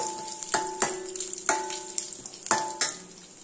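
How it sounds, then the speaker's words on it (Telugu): Urad dal, cumin, mustard seeds and dried red chillies tempering in hot oil for dal tadka, a steady close sizzle broken by sharp spattering pops and crackles roughly every half second, with no voices. "ఫస్ట్ ఆయిల్ వేడి చేసి దానిలో మినపప్పు, జీలకర్ర, ఆవాలు, ఎండుమిర్చి పోపు వేయాలి"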